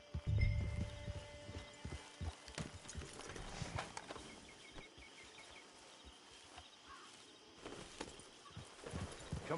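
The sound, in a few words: horse hooves clip-clop in Red Dead video game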